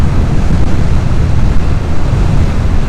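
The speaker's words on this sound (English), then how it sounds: "So I've got the wind blowing straight at my head and at my body." Steady, loud wind roar buffets a rider on a 2024 BMW R12nineT naked motorcycle at about 70 mph with no wind protection, a consistent broadband rush filling the whole stretch without speech.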